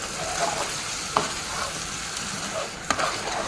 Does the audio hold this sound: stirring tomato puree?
yes